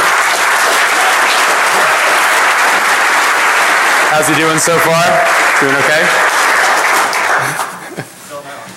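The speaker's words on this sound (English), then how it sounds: "So a round of applause for our first-time speaker" An audience at the DEF CON 21 hacking conference applauds a first-time speaker on a Sunday morning: loud, dense, sustained clapping throughout, with someone talking over it midway before it thins out near the end.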